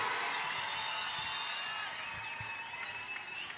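At a church healing service, a congregation breaks into a dense, continuous wash of clapping mixed with high, wavering ululation cries, full and close, slowly easing off toward the end.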